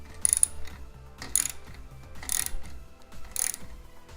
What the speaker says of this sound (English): now I can go ahead and torque the bolts down manually